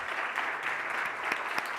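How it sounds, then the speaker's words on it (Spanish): An audience at a medical talk on AI and diagnostic imaging applauds as Dr. Joseba Alonso is welcomed to the stage, a dense, steady wash of clapping held throughout without speech. "un aplauso para él"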